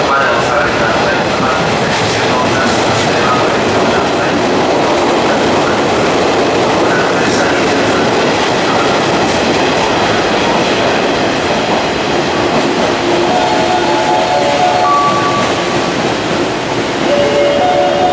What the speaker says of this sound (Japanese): 11番乗り場列車が参ります。